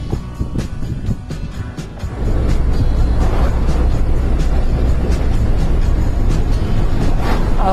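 Car on a long-distance drive, steady road and engine rumble that grows louder and fuller partway through, with constant wind and tyre noise.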